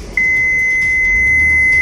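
A Mitsubishi Pajero Sport's rear parking sensor, set off by reeds behind the car, sounds a steady, high electronic tone continuously after a brief start, loud and unbroken over a low engine rumble.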